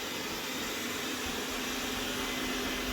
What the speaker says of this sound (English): Roborock vacuum cleaner. Uses mop feature. Look how powerful it is.